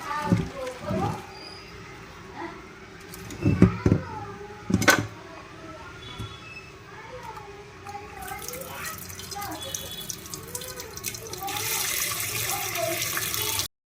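Hot water is poured out of a pressure cooker in a home kitchen while pakoras are being made: scattered drips and splashes, then a steady, louder rush of running water toward the end.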